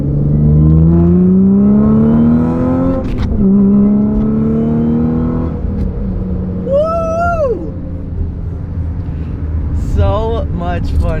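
A widebody Audi S5 under hard acceleration, engine note climbing steadily through the gears with brief shift breaks, loud and close from inside the car, with a voice briefly heard near the end.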